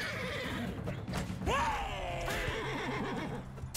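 A horse in Mount & Blade II: Bannerlord gives two sharp, wavering whinnies in the middle, set against battle noise and clattering, with someone speaking faintly at times.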